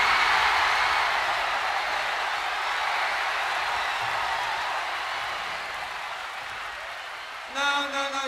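An arena crowd applauds at a 1981 Budokan rock concert. The dense applause slowly fades, and a sharp guitar tone cuts in at the end.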